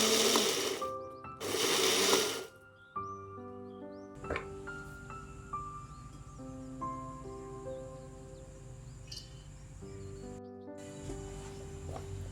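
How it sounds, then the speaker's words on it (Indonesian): A kitchen blender grinds shallots, garlic and red chilies for sambal, starting with two loud whirring bursts, then settling into a steady mechanical hum with clicking and clattering under it, and no one speaking. "Kita haluskan dengan blender saja ya."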